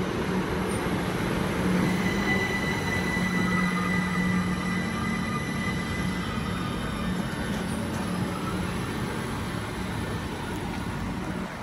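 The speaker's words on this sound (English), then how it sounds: "Class 387 now arriving on platform 4 for a service to London Paddington." A Class 387 electric train arrives at a platform at Ealing Broadway station, giving a loud, sustained rolling rumble with drawn-out squealing wheel tones throughout.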